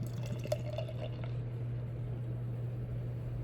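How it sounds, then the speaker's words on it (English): Lager beer pouring into a glass for about a second, with a few gurgling splashes, over a steady low electrical hum that continues afterward. "let's get a good pour here"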